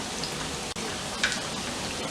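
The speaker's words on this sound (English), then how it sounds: "and let these fry up, and then I'll show you when we're supposed to turn them over" Salmon patties frying in olive oil in a cast iron skillet, giving a steady, close sizzle with soft crackles and a brief pop partway through.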